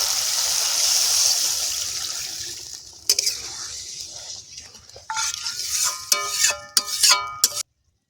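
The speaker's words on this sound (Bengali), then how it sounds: "মশলা দিয়ে তেল ছেড়ে দিয়েছে, এবারে দিয়ে দেব জল।" Water is poured into fried masala in a pan for fish curry, starting as a loud hiss and sizzle that fades, followed by clinking and bubbling as it settles.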